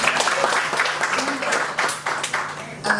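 A congregation claps during a church service, a moderate burst of scattered hand claps with uneven rhythm and talk mixed in.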